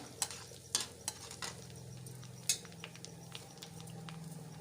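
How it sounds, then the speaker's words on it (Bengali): Pumpkin greens stirred and fried in a pan with fenugreek, cumin and chopped onion: a low steady sizzle under a few sharp scraping clicks of a utensil against the pan, fairly faint and with no talking. "ভালো করে নেড়ে ভেজে নিতে হবে।"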